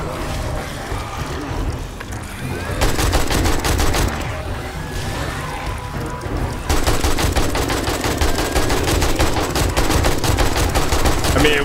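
Automatic AK-47 fire in the 7 Days To Die survival game, long rapid bursts of shots in two stretches with a brief pause between, loud and close with no talk.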